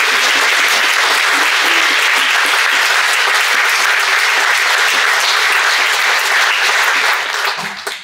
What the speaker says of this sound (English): I feel a sense of applause coming on for the beautiful singing